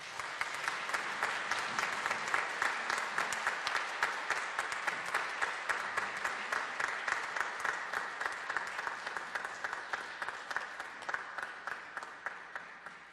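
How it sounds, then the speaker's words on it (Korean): Steady, sustained applause from a church congregation honouring ten retiring Methodist pastors and their wives at a retirement ceremony, even and continuous throughout with no voices over it. "입장하신 10분의 목사님과 사모님께 존경과 축복의 박수를 다"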